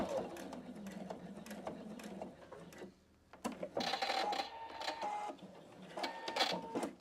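A Pfaff Expression 720 domestic sewing machine stitches a seam on a fabric pouch, a fairly quiet mechanical whir with rapid needle ticks, briefly pausing before running again.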